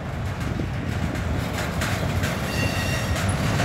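Norfolk Southern four-engine manifest freight train with a Union Pacific unit leading, rolling past in Jacksonville, Florida: a loud, steady rumble of railcars with faint wheel clatter and wind buffeting the microphone throughout, no voices.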